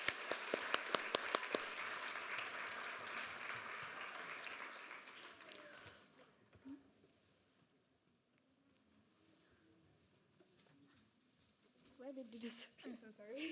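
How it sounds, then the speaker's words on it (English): An audience claps for a Bharatanatyam dancer at her arangetram, a brief burst of dense applause from a hall crowd that dies away into murmuring room noise. "a big round of applause for Gayathri."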